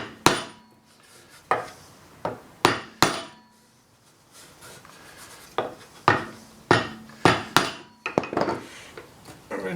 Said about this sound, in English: So a block of wood and a hammer.